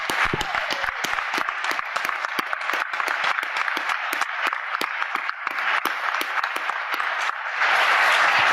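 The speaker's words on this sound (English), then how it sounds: "it's time for everyone to give this guy a big round of applause" Audience at a DEF CON Capture-the-Flag talk breaks into loud, sustained applause, a thick continuous wash of clapping that fills the hall and stays strong throughout.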